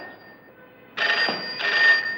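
An old telephone bell rings loudly in two bursts indoors, each a sharp metallic jangle, after a quiet stretch with a faint steady tone.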